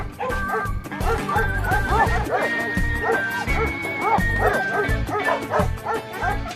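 A dog yips, whimpers and barks excitedly in a close, continuous run of overlapping cries for several seconds.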